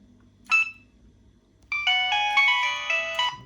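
An old Nokia mobile phone, worn and missing its back cover, plays a polyphonic ringtone: a single bright chime, a short pause, then a loud sustained melodic run of tones, with faint background hum and no talk.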